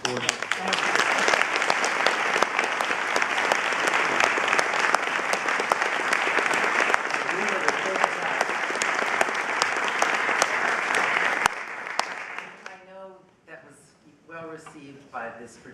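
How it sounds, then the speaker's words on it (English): Audience at a foundation event gives a loud, sustained round of applause lasting about eleven seconds before fading out abruptly, followed by a voice beginning to speak. "I hope that you will all join me in a round of applause for that."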